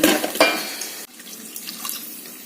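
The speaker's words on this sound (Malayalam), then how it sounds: "വെള്ളം ഒഴിക്കും" Water poured into a cooking pan from a tap, a bright, full-band splashing rush that stops abruptly partway through, leaving a quieter residual trickle and faint clinks.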